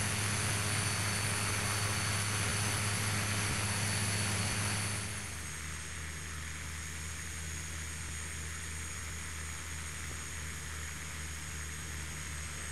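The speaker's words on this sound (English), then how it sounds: "the airplane is now taxiing to the end of the runway" A Piaggio P-180 twin-turboprop in Flight Simulator X taxis with a steady engine drone and whine, loud at first, then settling to a lower, quieter hum.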